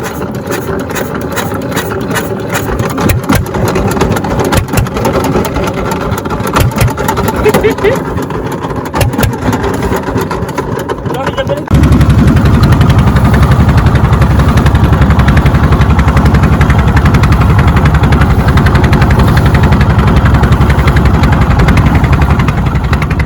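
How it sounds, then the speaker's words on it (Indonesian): A boat engine chugs with a steady, rhythmic pulse at night, then shifts to a louder, deeper continuous roar that runs on without a break. "Mesin kapal mulai berbunyi"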